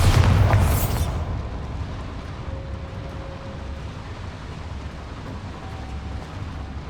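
A Bombarda explosion spell goes off in Hogwarts Legacy: one loud, close blast in the first second, then a long, low rumbling tail that fades into steady background ambience.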